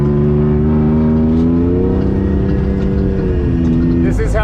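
An Atlas Raptor custom super truck coasts, heard from inside the cab as a steady mid-loud engine and drivetrain drone with harmonic whine that dips slightly before a brief burst at the end.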